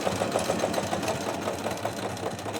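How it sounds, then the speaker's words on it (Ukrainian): A domestic sewing machine stitches a French seam on a duvet cover, running continuously up close with a steady, fast rhythmic clatter and motor hum. "Розкроїла підодіяльник і шию."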